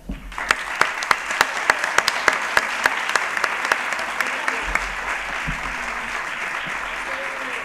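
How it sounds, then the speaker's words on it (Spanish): A crowd at an adult school end-of-year ceremony claps for an honoree, with steady applause of moderate loudness and sharper individual claps standing out in a regular rhythm. "Es por ello que merece este gran aplauso."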